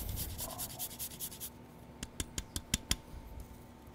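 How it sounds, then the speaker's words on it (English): Roasted macadamia nuts grated on a fine grater, a run of soft scraping strokes followed by several sharp, evenly spaced rasps, close and quiet with no talk. "for a little nuttiness, we're just gonna grate some macadamia nuts"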